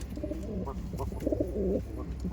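A pair of Giribaz pigeons of the Chini variety cooing softly in a series of low, rolling coos, close but fairly quiet, with faint background noise and no voices.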